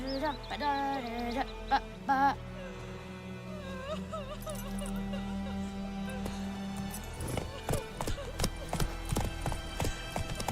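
Roach, Geralt's horse in The Witcher 3, clip-clops along with a steady run of hoofbeats, while dogs whimper and bark nearby and a vocal whine rises early on.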